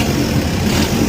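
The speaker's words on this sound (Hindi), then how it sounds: "लॉन्ग टेल बोट का इंजन।" Long-tail boat engine running steadily near Ao Nang Beach, Krabi, a loud continuous low mechanical drone with no breaks, close by and alone.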